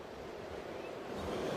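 Stormy ocean waves and surf wash along the South African coast, a steady broadband rush with wind noise, moderately faint and unbroken for under two seconds.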